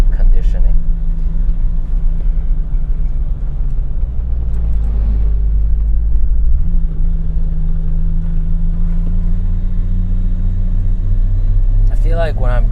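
A steady, low engine drone from a BMW E34 M5 while driving hums throughout, with a pitch shift midway and faint voices near the end.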